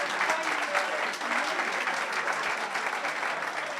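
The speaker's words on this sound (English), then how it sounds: "Good round of applause to James." Audience at a club celebration event gives a steady, dense round of clapping that holds at even loudness throughout, close and full.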